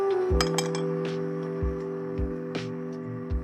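Tea cups meet in a birthday toast, giving a few light, ringing ceramic clinks spread over a few seconds, close and fairly soft, over a faint steady hum.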